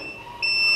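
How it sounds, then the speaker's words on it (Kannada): A sequin punching machine gives a single high electronic beep that starts halfway through and holds steady to the end, clear and alone. "ಬೀಪ್ ಸೌಂಡ್ ಬರುತ್ತೆ."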